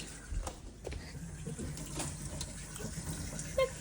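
Water poured and running over a puppy during its first bath, a soft continuous trickle and splash with faint background movement, quiet and close.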